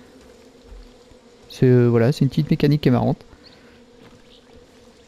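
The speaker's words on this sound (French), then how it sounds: "quand on tire dessus, il y a plein d'abeilles qui viennent embêter les mecs" A swarm of bees pours out of a shot beehive in Far Cry 5, giving a steady low buzzing drone throughout while someone talks over it in the middle.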